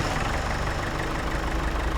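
A tractor engine idles steadily in the farming video game Farming Simulator 25 during hay harvesting, a constant low rumble that fills the clip alone without speech.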